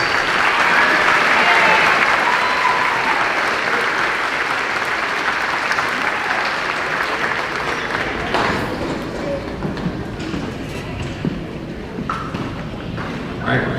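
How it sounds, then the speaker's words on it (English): An audience claps at a 5th grade moving-up ceremony at Birchwood school: strong applause fills the first half, then thins into scattered claps, shuffling and low murmuring. "Let's give her a round of applause."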